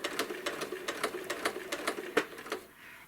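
A sewing machine with a walking foot quilts tight curves at slow speed on an apple core quilt, sounding as a rhythmic series of sharp clacking stitches with brief pauses, fairly close and alone.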